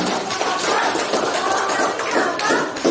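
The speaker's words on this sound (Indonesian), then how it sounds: "Oke, saya kasih aplaus lah sama-sama, kita kasih aplaus." A class applauds together, with dense, steady clapping from many hands filling the room for a few seconds and faint voices mixed underneath.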